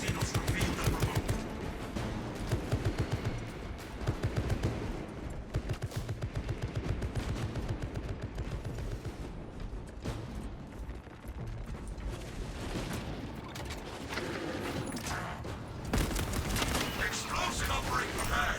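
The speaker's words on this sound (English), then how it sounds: "Activating tarantula sentry gun. Servo gun engaged." A plasma servo gun firing in a video game, a rapid rattling stream of shots that runs almost continuously, broken by a few short pauses and mechanical clanks, with a voice speaking over parts of it.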